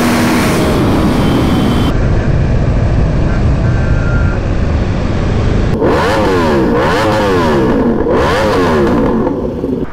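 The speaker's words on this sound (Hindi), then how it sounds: "I am riding this beautiful Ducati monster" Ducati Monster motorcycle engine roaring loudly on an open road, with a sustained close-up roar followed by repeated rising and falling revs.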